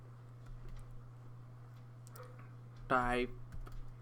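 Close computer keyboard typing while entering JavaScript code, soft scattered key clicks over a steady electrical hum, briefly joined by a voice speaking.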